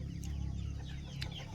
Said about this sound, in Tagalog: pakain mo tayo ng mga alaga natin manok